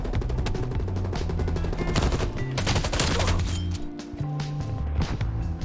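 A QBZ assault rifle in Call of Duty Cold War fires loud, rapid automatic bursts with a sharp, steady rhythm over a brief pause, set against game music and effects.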